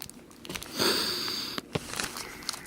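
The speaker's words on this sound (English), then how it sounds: "Let me sniff these." A person sniffing newly unboxed ties in plastic packaging, with one long inhale up close followed by shorter sniffs and crinkling.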